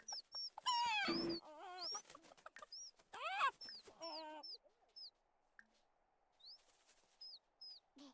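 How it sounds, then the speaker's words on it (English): Chickens and a rooster cluck in a video game farmyard: a loud burst of squawking calls near the start, then scattered quieter clucks and short chirps repeating over a faint steady background hum. "Rooster, rooster."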